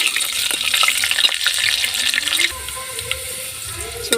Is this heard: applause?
no